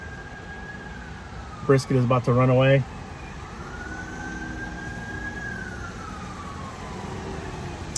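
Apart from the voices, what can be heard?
emergency vehicle sirens passing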